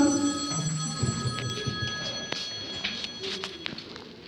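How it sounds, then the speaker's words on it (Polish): A telephone rings with a bright, repeating electronic tone, joined by faint clicks and shuffling movement nearby. "Telefon."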